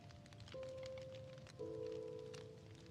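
Steady rain patters in Minecraft, a soft, even hiss of falling drops that runs for the whole stretch, while quiet musical tones sound over it.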